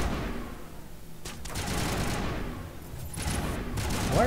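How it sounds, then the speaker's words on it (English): Gunfire from enemies shooting at the player in Mass Effect sounds as a dense, continuous rattle of rapid shots and booms, steady and fairly loud throughout. "Why are you shooting at me?"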